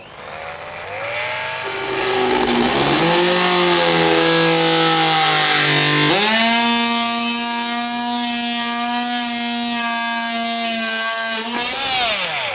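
A DeWalt XMS14MULTI oscillating multi-tool plunge-cuts into material, giving a loud, continuous buzzing whine that sags in pitch under load and climbs again. No one talks over it.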